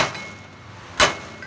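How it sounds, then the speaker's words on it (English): A single sharp metallic hammer strike on a piece of scrap pin, driving a bushing out at a cluttered factory workstation; one loud clang stands out near the end against a quiet background. "Use this little piece of pin that we cut from the scrap and a hammer to pop out that bushing"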